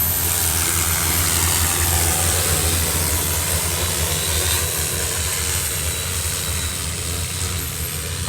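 A crop-spraying drone flies overhead at a fishing spot, a steady buzzing propeller drone that stays loud and constant throughout.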